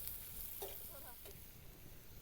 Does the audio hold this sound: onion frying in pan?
yes